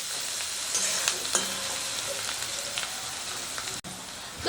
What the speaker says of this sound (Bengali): মশলা দিয়ে পেঁয়াজটাকে কিন্তু ভালো করে নাড়াচাড়া করে একটু ভেজে নিতে হবে